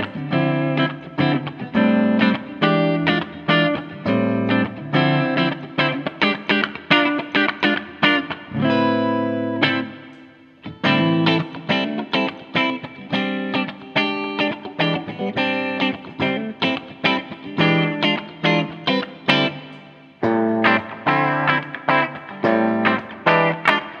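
A G&L ASAT Deluxe electric guitar is played clean with a little reverb through an amp, giving bright picked chords and single notes in a steady rhythm that pauses briefly near the middle.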